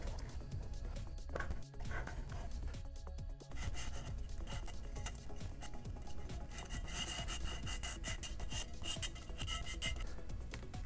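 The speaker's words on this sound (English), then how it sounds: "sandpaper is going to make lots of little scratches, and that's what we want" Sandpaper rubbing back and forth across a craft piece for a Boba Fett jet pack, a steady close scraping rhythm that runs continuously with brief pauses.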